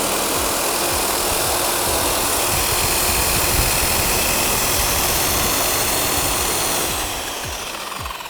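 A JBMF-60 brush and polish machine runs at low RPM with a high-speed airway buff fitted, giving a loud, steady broadband whir that holds evenly and then eases slightly near the end.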